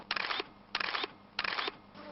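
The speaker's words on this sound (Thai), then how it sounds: "ในวินาทีเดียวกันกับที่พิเชนลั่นชัตเตอร์นะครับ" A camera shutter fires in three evenly spaced bursts of rapid mechanical clicks while photographing a wild goral in the forest, crisp and close against quiet background.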